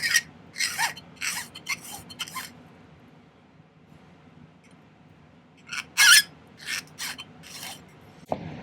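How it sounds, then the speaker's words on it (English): A hand file rasping across a flat piece of silver for a ring, short bursts of scraping strokes in two clusters separated by a quiet pause, close and crisp. "File it flat."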